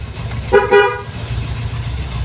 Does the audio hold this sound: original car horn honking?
yes